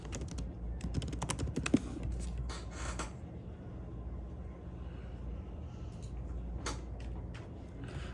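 Quiet, close clicking of a computer keyboard as a company name is typed, with a dense run of keystrokes early, a lull, and a few more taps near the end.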